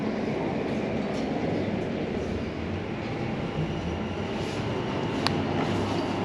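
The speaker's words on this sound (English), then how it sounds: "This is a Weaver Line train to Liverpool Street." A London Overground Class 710 Weaver line train rumbles steadily along the track with a continuous low roar throughout, plus one brief high squeal near the end.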